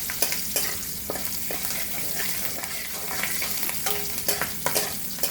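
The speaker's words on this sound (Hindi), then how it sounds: "उसके बाद हरी मिर्च को डाल करके फ्राई कर लेते हैं।" Green chillies fry in a pan for chicken chilli, a steady close sizzle broken by sharp scraping stirs of a spatula against the metal throughout.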